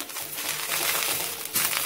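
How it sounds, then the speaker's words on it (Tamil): Dense, dry crackling and sizzling of curry leaves frying in hot oil in a pan, steady and close, with a brief louder burst near the end. "இந்த சடசடம் சத்தம் வருது பாத்தீங்களா"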